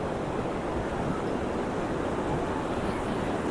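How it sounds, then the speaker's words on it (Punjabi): A fast, swollen mountain stream at a water crossing on the Manimahesh Yatra trek in the Himalayas gives a steady, dense rushing roar, close and unbroken, with no voices. "ਇੱਥੋਂ ਪਾਣੀ ਦਾ ਬਹਾਅ ਬਹੁਤ ਤੇਜ਼ ਆ"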